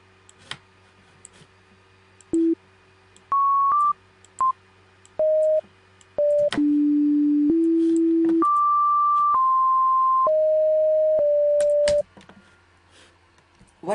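A pure sine-wave tone from an FL Studio oscillator plays a series of programmed notes, each a clean steady pitch, some short and some held, stepping up and down with brief silences between and faint clicks.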